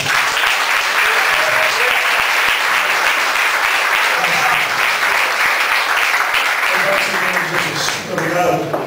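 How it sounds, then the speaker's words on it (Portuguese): A church congregation applauds steadily and loudly, the dense clapping running unbroken for several seconds, with voices mixed in underneath. "Aplausos."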